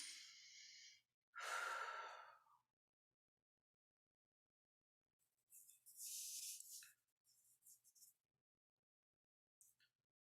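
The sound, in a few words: people taking medium breaths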